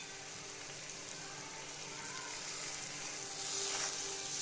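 Coriander frying in hot oil with vegetables and red chili powder for a Marathi masoor dal dish, a steady close sizzle with a crackling hiss that swells louder toward the end.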